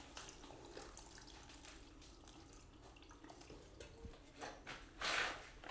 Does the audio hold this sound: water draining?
yes